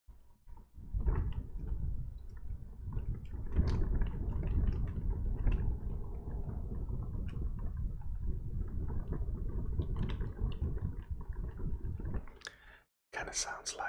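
Someone handles a small silicone keyboard protector close to the microphone, producing soft, continuous squishy clicks and rubbery rustling, with quiet talk in places.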